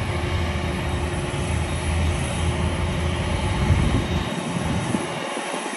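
An airplane at Haneda Airport Terminal 3 produces a steady broad engine roar heard from a distance, a continuous rumbling wash holding for several seconds before trailing off, with no speech.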